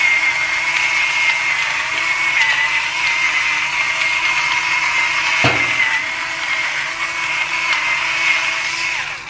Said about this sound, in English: Some of that, and then pepper.